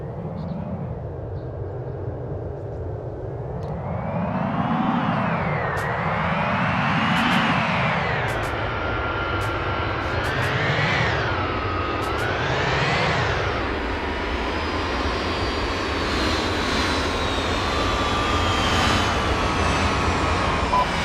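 Reconnaissance aircraft in a military video game drone steadily overhead, a loud continuous engine roar that rises and falls in several swelling passes, with faint clicks over the top and no talking.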